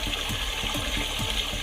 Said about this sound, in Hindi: अचानक हैंडपंप से पानी निकलने लगा